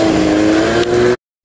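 A motorboat engine runs at a steady, loud drone with a strong low tonal hum, close by, then cuts off abruptly into silence.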